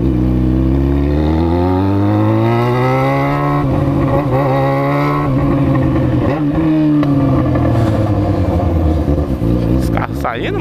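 Lowered cars roll out of a car-enthusiast meet in Londrina, engines revving loud and close with rising and falling pitch across the whole stretch, while people talk and shout over them.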